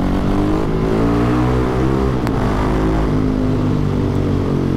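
A Husqvarna 701 Supermoto single-cylinder engine drones loud and close during wheelie riding, its steady throbbing tone dipping and shifting in pitch mid-way with constant rushing wind noise.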